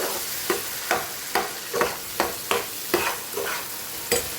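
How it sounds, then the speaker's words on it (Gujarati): Sugar gets stirred into a sizzling mixture in a pan over a full gas flame, with about nine regular scraping strokes roughly every half second over a constant close fry. "હવે ખાંડ એડ કરીશું. મસ્ત મિક્સ કરી લઈએ."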